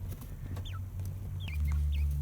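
Backyard chickens cluck and give short rising calls inside their coop, several sharp bursts in close succession over a low steady hum, with no talking.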